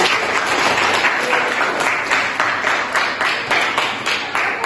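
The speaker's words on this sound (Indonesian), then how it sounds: "Tepuk tangan, betul." Applause from a classroom of students during a lesson, a steady, loud wash of many hands clapping throughout.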